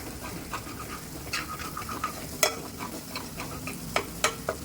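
Besan masala with coriander leaves sautés in oil for ragda, a soft, fairly quiet sizzle broken by several sharp clicks and scrapes of stirring, with no one speaking.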